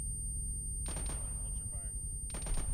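Gunfire in the Arma military game on the Takistan map: two short bursts of rapid shots, separated by a pause, over a constant low rumble, with faint voice chatter.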